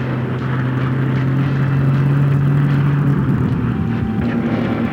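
An enemy scout car drives past with a steady, loud engine rumble and a low droning tone that holds, then loosens slightly near the end.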